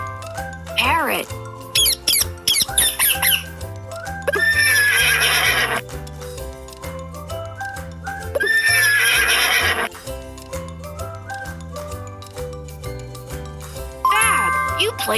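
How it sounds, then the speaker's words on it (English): A horse neighs and whinnies over a steady looping children's game jingle, with several loud calls standing out above the music. "Horse!"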